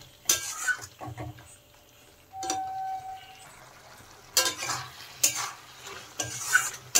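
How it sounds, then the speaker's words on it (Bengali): Chicken stirred in oil with spices in a pan for a chicken ghugni, giving scraping stirring strokes in short bursts with a soft sizzle underneath, close and fairly loud, no talking. "এখন এই সব মশলার সাথে চিকেনটাকে ভালোভাবে কষিয়ে নিতে হবে।"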